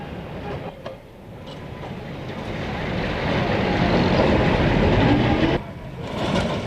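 A Kolkata tram travels over a recently reopened section of track, its rumbling wheels and rail clatter building to a loud, steady roar before easing slightly near the end.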